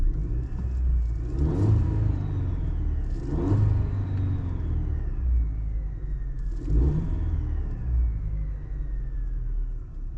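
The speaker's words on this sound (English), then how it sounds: "let me rev her up a couple times while we're here in park, just so you can hear how possibly it may sound in the cabin" A Chevrolet Silverado's 2.7L high-output turbo engine, heard from inside the cabin while parked, revs up three times in a steady rumble, each rise swelling to a loud peak and falling back to idle.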